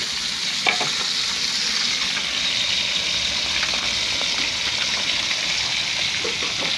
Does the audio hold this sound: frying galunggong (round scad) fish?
yes